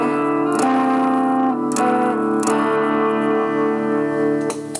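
An electric guitar played through a Screamer overdrive pedal kit with a little reverb gives sustained, slightly gritty chords. A few struck notes ring out and fade, and no one talks.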